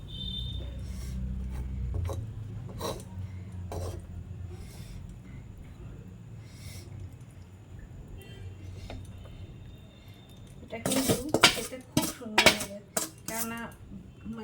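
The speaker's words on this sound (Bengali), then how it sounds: "দেখি ভাতটা একটু নেড়ে দিই" A utensil scrapes and clatters against a cooking pot as rice is stirred before meat is added for a biryani-style dish, soft rubbing at first, then a loud burst of metallic scraping and knocks near the end.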